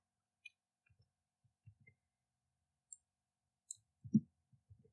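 Sparse, quiet computer mouse clicks come singly and in small pairs at irregular intervals against near silence, with a slightly louder cluster toward the end.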